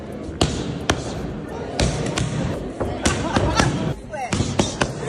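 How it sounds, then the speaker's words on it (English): Punches landing in a boxing fight: sharp, heavy thuds strike at irregular intervals over crowd and commentary noise, some blows in quick pairs. "Boy, y'all hear the punches?"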